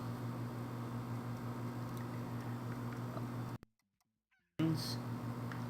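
Chickens in the video game Slime Rancher cluck over a steady humming game soundtrack, then a sudden near-second of silence cuts in before the sound resumes loud and close.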